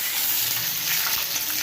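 Curry leaves sautéing in hot oil for a bitter gourd pickle give a steady, close sizzle and crackle that runs unbroken through the short stretch with no talking.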